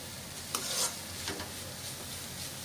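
Vegetables sautéing in a pan for veg fried rice, a soft steady sizzle with a few scraping stirs of a spatula, fairly quiet and close, with no talking.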